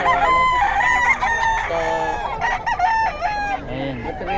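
A Golden Boy Sweater gamefowl rooster crows loudly and close at a pet market, with several overlapping crows and clucks from other chickens filling the space around it.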